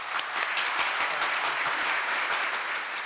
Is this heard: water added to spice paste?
no